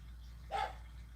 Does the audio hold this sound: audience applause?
no